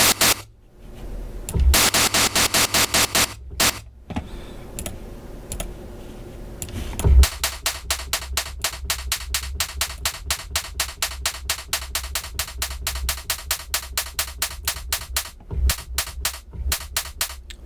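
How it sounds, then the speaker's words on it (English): Key-stepped white noise from a studio synthesizer for hi-hat design, rapid rhythmic bursts of hissy noise gated in quick repeating steps, with short pauses and a brief low thump, fairly quiet and alone. "I'm gonna use this key stepped white noise as well."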